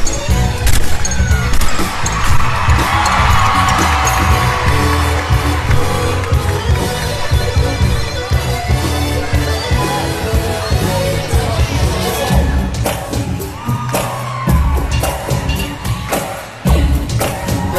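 A crowd roars and cheers loudly and continuously at a gymnastics floor routine after an opening double layout, with dense, sustained noise and sharp thumps and bangs toward the end.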